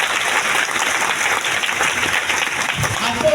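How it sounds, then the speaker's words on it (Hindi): Loud applause fills a hall at a large business event in Latehar, Jharkhand, a continuous crackle of many hands clapping close by with faint voices mixed in. "एक जोरदार ताली डिएक्शन करना है।"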